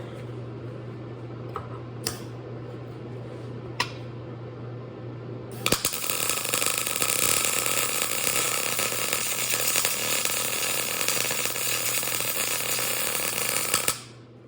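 A crossmember for a Powerglide transmission in an LS-swapped S10 being tack welded: a few faint ticks, then a loud, steady crackling hiss of welding that runs for about eight seconds before cutting off.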